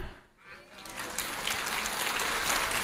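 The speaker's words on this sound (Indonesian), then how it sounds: "Ini yang keras tepuk tangannya orang Katolik ini." Catholic audience applauding loudly, the clapping swelling in after a brief lull and continuing as a broad, dense roar of many hands.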